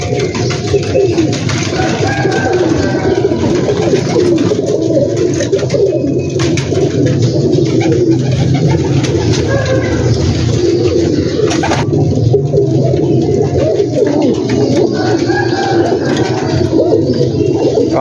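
A big flock of pigeons, including Sialkoti breed birds, coos continuously and densely from a large rooftop loft in Gujranwala, a steady layered murmur with scattered wing and cage sounds throughout.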